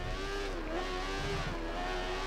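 A racing motorcycle engine in the video game Valentino Rossi The Game drones steadily at high revs, pitch shifting slightly as it accelerates, continuous and fairly faint with no talk.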